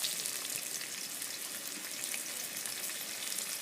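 Chopped onion sizzles and fries in fish oil in a pan, a dense continuous hiss with fine crackles, close and steady with no talk.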